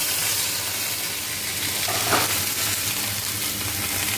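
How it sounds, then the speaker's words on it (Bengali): A paste of ground cumin, ginger, garlic and onion fries and is stirred in a pan with bay leaf, making a constant, close sizzle with faint scraping and no talk. "এবার মশলাটা খুব ভালো করে কষে নিব।"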